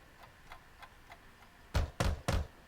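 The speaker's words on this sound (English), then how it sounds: "Knock knock. This time the noise jerks my attention away from my book." Three sharp, loud knocks on a door in the visual novel game Katawa Shoujo, coming in quick succession after a quieter stretch of soft ticking taps.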